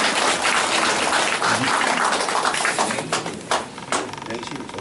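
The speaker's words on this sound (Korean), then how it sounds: "박수 부탁드리겠습니다" Audience at a press conference for a National Assembly candidate in Gumi claps in a dense, sustained burst that thins and tapers into scattered claps toward the end, with voices faintly underneath.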